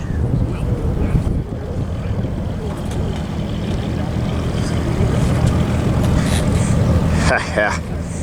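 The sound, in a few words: P-40 WW2 fighter aircraft taxiing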